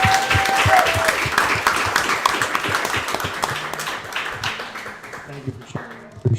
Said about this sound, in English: let's clap it up so he can hear it up there in heaven